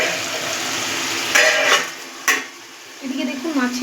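A metal lid clanks onto a pan holding tomatoes cooking with salt, two sharp metallic knocks and a brief rattle over a faint sizzle, with a voice starting at the end.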